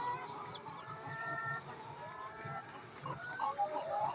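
Chickens at a poultry farm raising broilers cluck and chatter in a faint, continuous background murmur, with a few louder calls rising near the end.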